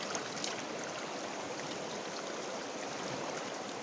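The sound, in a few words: flowing water of the Kali (Sharda) river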